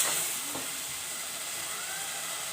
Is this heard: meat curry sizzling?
yes